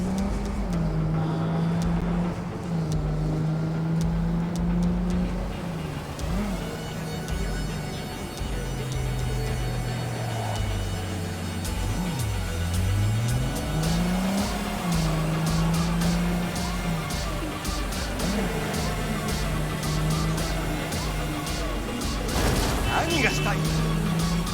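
In-game car driving in Cyberpunk 2077: a steady engine drone whose pitch rises and falls with acceleration and shifting, with thuds of impacts and brief squeals, while someone talks throughout.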